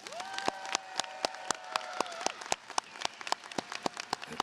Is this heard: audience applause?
yes